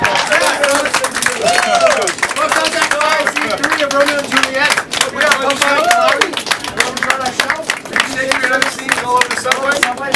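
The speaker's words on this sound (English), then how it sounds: "Thank you for the warm applause." Brisk clapping from a small crowd on a subway after a Shakespeare performance continues throughout, mixed with busy chatter and voices.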